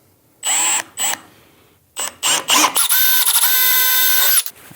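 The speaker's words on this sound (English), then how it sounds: "drill and tap these holes" Short bursts of a power drill whining while drilling holes in metal with a drill bit for an 8-32 tap, then a longer steady high-pitched drilling run that cuts off abruptly; close and loud.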